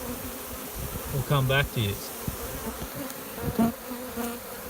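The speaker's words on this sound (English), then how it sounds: "You can feel the buzzing on my bloody hand." Dense, steady buzzing of a honey bee swarm being moved into a hive, close and continuous, with someone speaking briefly over it.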